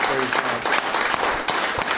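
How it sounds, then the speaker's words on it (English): A church congregation claps together during a Sunday morning worship service, a brief burst of dense, energetic hand clapping with a voice speaking over it. "Give the Lord a hand clap this morning."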